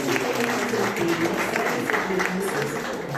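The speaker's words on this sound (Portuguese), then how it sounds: "uma salva de palmas para Liberato" A live community event audience applauds a speaker, dense sustained clapping from a crowd filling the whole stretch, with some voices mixed in.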